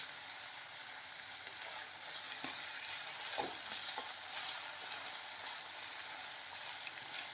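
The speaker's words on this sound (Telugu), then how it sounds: "సాల్ట్ యాడ్ చేయడం వల్ల ముక్కలు కూడా త్వరగా ఫ్రై అవుతాయండి." Salted vegetable pieces frying in a pan give a steady, soft sizzle throughout, with a few faint stirring knocks along the way.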